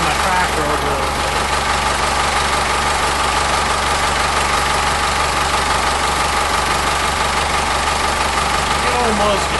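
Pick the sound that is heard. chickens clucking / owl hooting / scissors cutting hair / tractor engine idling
tractor engine idling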